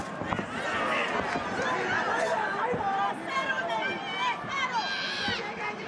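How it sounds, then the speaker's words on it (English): A large boxing crowd in Tokyo at the Naoya Inoue vs Luis Nery fight roars and clamours steadily throughout, with a commentator's voice running over the dense crowd noise. "As you can hear this massive crowd in Tokyo trying to rally support"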